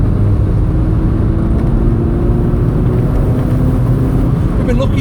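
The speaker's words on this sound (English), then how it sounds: "Now is this guy in the BM going to floor it like I hope he is?" A BMW car is driven up Fish Hill on the A44 road, its engine giving a continuous loud roar under hard acceleration that stays strong and unbroken throughout.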